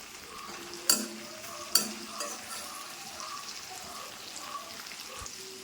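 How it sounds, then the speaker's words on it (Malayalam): Small shallots frying in oil in a pan, a soft continuous sizzle broken by two sharp knocks of a spoon stirring against the vessel, then gentle scraping as the frying goes on. "നമ്മുടെ ഈ എണ്ണയ്ക്കകത്ത് കിടന്ന് വേണം നമ്മുടെ ഈ ചെറിയ ഉള്ളി വെന്ത് വരാനായിട്ട്"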